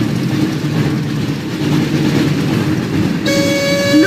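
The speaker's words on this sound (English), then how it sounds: "Looks like we found the train, Ron." Hogwarts Express train from the Harry Potter and the Chamber of Secrets PS1 game rumbles steadily and loudly, then a sustained horn-like tonal blast enters near the end over the continuing rumble.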